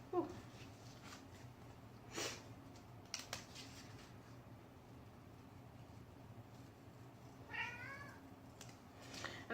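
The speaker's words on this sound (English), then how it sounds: "And I'm sure you can hear my cat." A cat meows indoors a few times, quiet and close, with soft rustling and scissor-like snips of papercraft work around it.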